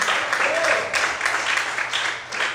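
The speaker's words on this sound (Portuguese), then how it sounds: "Será que você pode aplaudir ao Senhor Jesus?" Church congregation applauding at a night worship service, a dense, continuous wash of many hands clapping at fairly close range, steady throughout.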